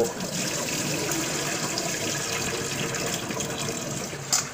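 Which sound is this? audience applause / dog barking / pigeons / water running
water running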